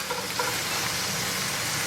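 Vegetables for Creole jambalaya, including onions, sizzle steadily in a hot pan, a continuous crackling hiss with no voices.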